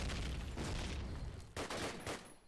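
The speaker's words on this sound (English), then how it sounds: "It's a headshot there onto Branny. Yeah, hanging up high with the Lee Enfield" Lee Enfield rifle fire in a Call of Duty match: quiet bursts of gunfire, several sharp shots standing out from the game noise.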